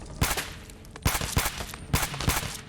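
Four sharp gunshots in Fallout 4, fired at bodies at uneven intervals, each a loud crack with a short tail, with no voices.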